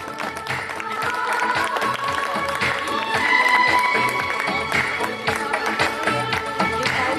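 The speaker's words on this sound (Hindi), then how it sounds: "आप सभी जोरदार तालियां बजा करके अपने मन की खुशी को जाहिर कर सकते हैं" An audience in a hall claps loudly and steadily at a Brahma Kumaris spiritual gathering in Bunkar Colony, Delhi. The dense applause lasts throughout, with music and faint voices mixed underneath.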